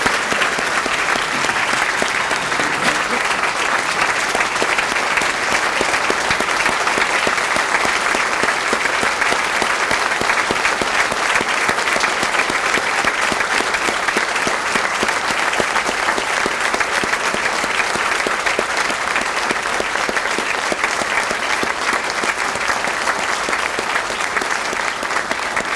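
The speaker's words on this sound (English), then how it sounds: "if we can give him a round of applause now" A long, loud round of applause from the audience at a St. Paul police awards ceremony, dense steady clapping that carries on without pause for the whole stretch, with no speech over it.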